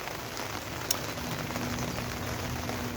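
Steady rain falls on a garden, a dense, even patter of drops on surfaces that holds at moderate loudness throughout, with one brief sharper tap partway through and no voices.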